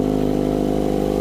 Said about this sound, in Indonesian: Nah jadi idolnya kurang lebih suaranya kayak gini guys.